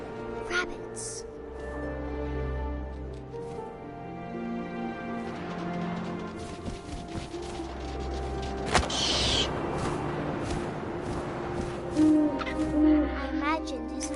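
An owl hoots in the video game What Remains of Edith Finch, its low calls set against wind and a layered musical score while a narrator talks throughout.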